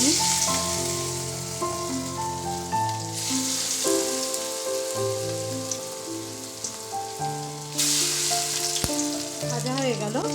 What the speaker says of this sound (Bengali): ভাজা হয়ে গেল, তুলে নিচ্ছি এগুলো।